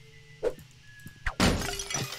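Photos shattering in the indie game Kill It With Fire: a few sharp cracks, then a loud burst of breaking glass with a trailing crunchy spray, close and clear.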